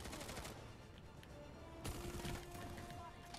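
Gunfire from shotguns in the Planetside 2 video game, a busy run of shots and cracks with a louder burst in the middle, set over continuous game noise and background hum.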